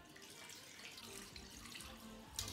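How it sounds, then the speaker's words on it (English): Brine poured from a container over a brisket for homemade corned beef, a steady splashing pour with a brief louder gush near the end, close and alone. "All we're gonna do now is pour it on top of the brisket."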